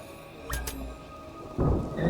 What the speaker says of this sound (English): So while you're outside, you can hear the rain here.